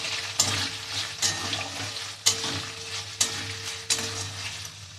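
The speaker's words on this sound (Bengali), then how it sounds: "পেঁয়াজ কুচি আর লঙ্কা কুচি, দিয়ে এগুলো ভাজবো।" Chopped onion and green chilli fry in hot oil with cardamom and cloves for yogurt chicken, a steady, close sizzle broken by a stirring scrape about once a second.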